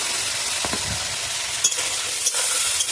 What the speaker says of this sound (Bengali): আলুটা মুচমুচা করে খুব সুন্দর করে যত্ন সহকারে ভেজে নিয়েছি